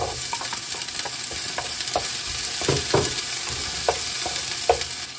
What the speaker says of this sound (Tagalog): Pa-browning lang tong onion. Isunod na natin ang kamatis.